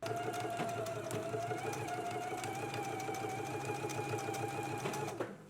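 A sewing machine stitches a jacket facing seam at a 5/8-inch allowance, whirring steadily and rising slightly in pitch as it speeds up, then stopping abruptly near the end, with no talk.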